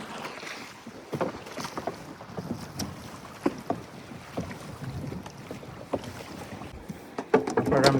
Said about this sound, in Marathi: बघा मित्रांनो, होडी पोचली आहे बोटीवर